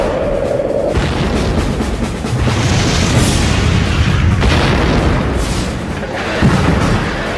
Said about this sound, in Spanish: Una salva golpea al Hood.